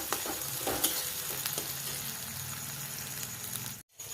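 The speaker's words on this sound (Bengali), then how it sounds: "আর এখন কড়াইয়ের মধ্যে পেঁয়াজ দিয়ে দিই, যতক্ষণ না ব্রাউন কালার হবে ততক্ষণ আমি এটা নাড়তেই থাকবো মাঝে মাঝে।" Onions frying in a hot wok, a constant close sizzle broken by scraping stirs and light clicks, ending in a brief cut to silence; nobody speaks.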